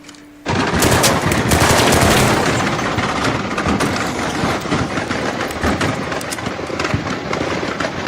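Sustained machine gun fire from a shooting video played on screen, starting abruptly after a brief quiet moment and continuing as a loud, dense barrage of rapid bursts throughout.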